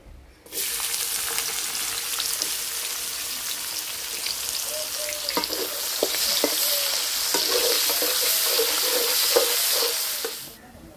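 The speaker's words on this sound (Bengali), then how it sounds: "তেল গরম হয়ে গেছে, এখন পেঁয়াজের বেরেস্তা কইরা নিব।" Sliced onions for beresta hit hot oil in a karahi and burst into a loud, dense crackling sizzle that holds steady for about ten seconds before cutting off.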